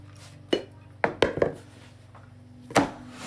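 Kolache dough is moved into a bowl oiled with olive oil, with a few distinct knocks and taps against the bowl, close and fairly quiet, spread unevenly over a few seconds with a low hum behind.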